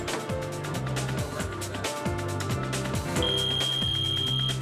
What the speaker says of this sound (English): Then the fire alarm shorts out